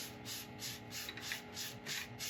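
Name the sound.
polishing turned elm wood with abrasive paste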